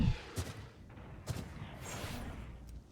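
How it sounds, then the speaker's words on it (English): A flashbang grenade goes off in a team shooter video game, heard as a couple of short, fairly faint bursts followed by a washy ringing fade, fairly quiet overall with no talk. "Flashbang."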